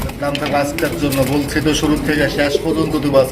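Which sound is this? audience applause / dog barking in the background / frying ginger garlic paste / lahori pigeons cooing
lahori pigeons cooing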